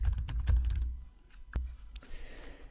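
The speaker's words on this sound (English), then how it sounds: "So you basically could type this." Typing on a computer keyboard, heard as a quick close burst of clicking keystrokes followed by a few scattered single taps, with no talk.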